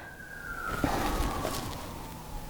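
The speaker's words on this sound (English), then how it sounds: "every once in a while we get those sirens and they have to come in right when I'm filming." An emergency vehicle siren passes through a small village in the New York suburbs; its wailing tone drops in pitch as it goes by, sounding fairly distant under a constant background rumble.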